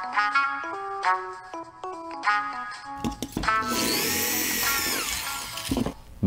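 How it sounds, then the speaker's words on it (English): A small power drill bores a hole for a servo cable through a 3lb battlebot part, its whine rising in loud, steady bursts after a stretch of unrelated tonal melody, close and without speech. "drill a small hole for the cable to fit through"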